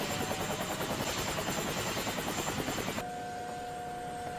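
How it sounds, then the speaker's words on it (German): Loud, continuous cartoon helicopter noise with a fast rhythmic rotor chop that cuts to a steadier engine drone and whine partway through. "Der Hubschrauber hat viel Krach gemacht."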